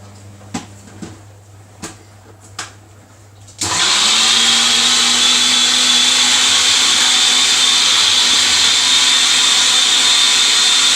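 After a few soft knocks and taps, a blender making samosa dipping sauce switches on and runs loud and steady with a high whirring motor whine until the end.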